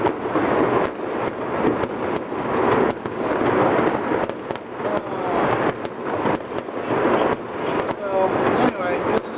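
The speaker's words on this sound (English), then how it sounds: "this is 6 minutes worth of fireworks" Lantern Festival fireworks going off in a dense run of loud bangs and crackles, with sharp repeated reports and rolling rumble, voices audible underneath.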